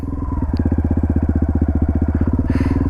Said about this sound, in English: Here that engine is bogging down like that.